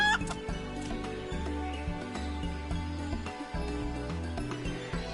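Backyard chickens cluck and chatter softly in a loose, irregular rhythm, several birds close by, with no talk over them.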